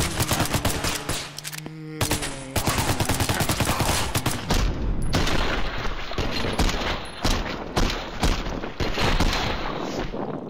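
Dense, continuous gunfire in the zombie shooter Zomday as a player fights off a surrounding horde, rapid loud shots packed tightly for the whole stretch with barely a gap, saturated and close.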